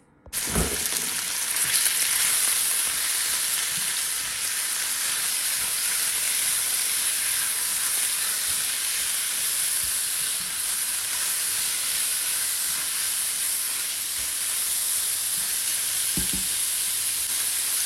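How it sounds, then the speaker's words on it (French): Beef fillet dropped into hot oil for pad thai, a loud, dense sizzle that hisses steadily and without a break from start to finish, with a faint stir or scrape near the end. "Une fois que votre huile est bien chaude, vous venez rajouter votre filet de bœuf."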